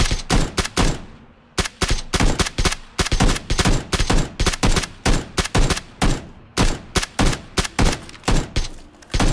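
Rapid gunfire in PlayerUnknown's Battlegrounds, loud bursts of automatic shots in quick clusters with brief gaps, sharp and close throughout, no voices over it.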